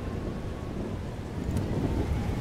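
Thunderstorm in the game Life is Strange: Double Exposure, a low continuous rumble of thunder with a wash of rain and wind, steady and fairly loud, with no voices.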